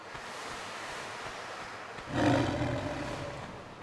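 Lionesses in a video game colosseum level give a low, rumbling roar that swells up out of steady ambient noise about halfway through, then lingers and fades slightly, with no talking.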